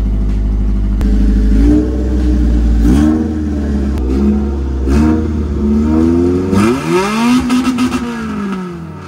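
A jeep-type vehicle fitted with a 4AGE Redtop engine revs loudly and close up, its exhaust rising and falling through several sharp throttle blips that climb higher near the end.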